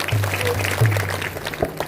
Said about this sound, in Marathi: टाळी वाजव त्याच्यासाठी.